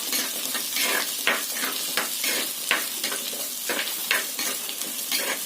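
Garlic, ginger, green chilli and fennel sautéing in a pan for a white kuruma, a bright steady sizzle with repeated stirring scrapes and light metallic taps, close and without voices.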